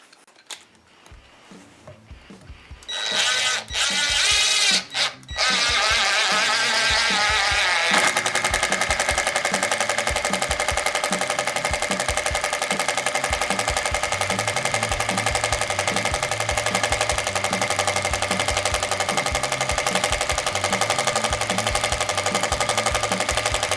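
A RIDGID Gen5X R9652 cordless drill drives 3-inch deck screws into stacked 2x4s, its motor whining loud and close in a long continuous run after a few short starts.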